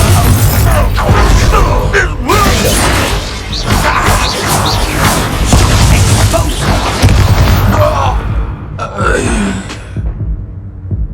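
Fiery Confringo spell blasts in the video game Hogwarts Legacy, several heavy booming impacts and crashes amid combat noise, with character grunts and shouted voices mixed in.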